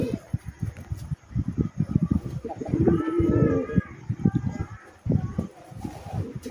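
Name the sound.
Deshi coloring gola pigeons cooing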